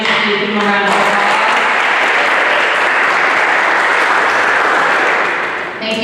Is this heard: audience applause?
yes